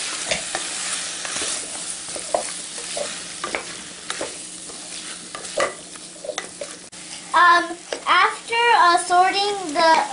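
A spoon stirs spices through vegetable kurma in a pan, with soft scraping and light sizzling, then a voice speaks over the cooking near the end.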